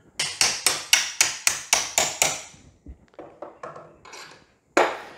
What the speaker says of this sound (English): Now this should go through there real nice with a little persuasion of the hammer.